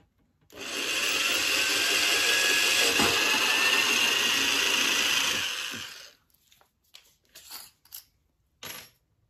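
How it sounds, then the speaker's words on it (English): A small drill whirs steadily for about six seconds, drilling a small hole in a thin part of a replica Proton Pack, then stops, followed by a few light clicks and taps. "now to drill the smaller hole"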